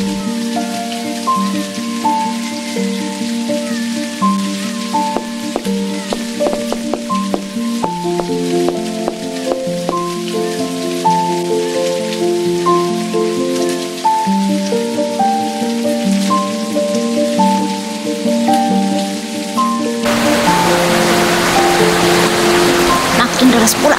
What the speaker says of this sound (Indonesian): Makin deras pula lagi hujan ini.